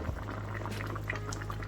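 Soup bubbling steadily in a pot on the stove, a continuous low rolling boil with soft bursting bubbles, close and moderately quiet with no voices.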